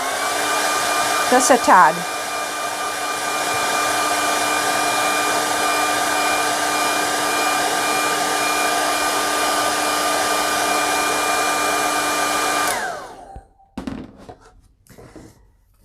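Hair dryer blowing steadily and loudly on a painting, a constant whining drone for about twelve seconds before switching off; a voice speaks briefly near the start.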